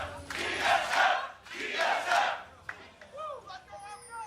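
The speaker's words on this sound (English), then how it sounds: "Familiar chants coming through once again." Crowd at a League of Legends LCS Summer 2019 esports match between TSM and OpTic Gaming roars and chants in two loud surging waves, then settles into quieter murmurs and scattered voices.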